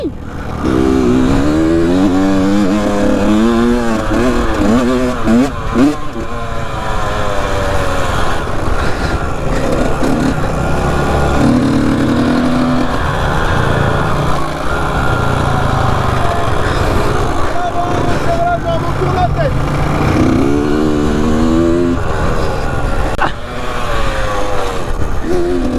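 A motocross dirt bike engine revs and drones loudly and continuously, rising and falling in pitch with acceleration, with occasional French-speaking voices over it.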